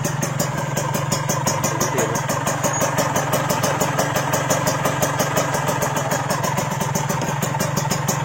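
A Yamaha RX King motorcycle fitted with a Ninja engine idles steadily up close, its fast, even clatter running unbroken with no voices.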